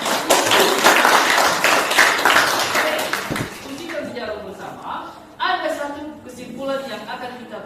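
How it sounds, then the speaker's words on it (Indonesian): A group claps and applauds for a presenting team in a classroom-style session, a dense burst of hand claps for the first few seconds that then fades out as voices talk over the tail. "tepuk tangan untuk kelompok 4"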